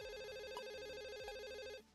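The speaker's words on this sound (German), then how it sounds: "Telefon!" A telephone rings in an 80s-style slasher horror video game, a loud electronic warble trilling continuously in two bursts before cutting off, with no speech.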